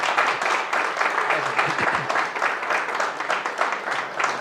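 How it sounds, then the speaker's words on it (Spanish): Audience applause for speaker Cristián Iturralde after a talk on the Black Legend and the Hispanic world: dense, steady clapping from a crowd, loud and sustained throughout, with faint voices mixed in. "un fuerte aplauso para Cristian"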